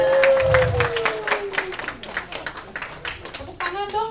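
Audience applause fills the clip: a dense patter of clapping that swells and fades in waves, with a voice and a sliding whistle-like tone over it, at a talk-show style sharing session.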